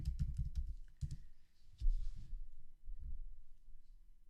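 Typing on a computer keyboard indoors: clusters of quick, close clicks and key taps in uneven bursts with brief pauses, fairly quiet and alone without talk.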